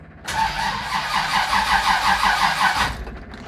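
A rebuilt Pontiac V8, bored out from 400 to 470, cranks over on its first fire attempt with an electric fuel pump on, a steady rhythmic starter churn lasting under three seconds without catching, then stopping.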